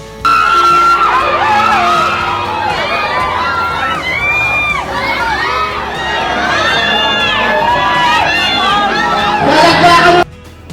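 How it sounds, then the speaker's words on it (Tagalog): A dense crowd at a movie premiere red carpet screams and cheers continuously, many high-pitched shrieking voices layered together, loud and close, ending abruptly. "Sa red carpet pa lang pinagkaguluhan na sila ng mga tao at hiyawan ang lahat."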